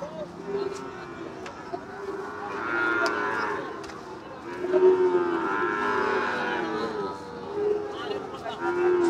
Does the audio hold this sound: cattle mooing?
yes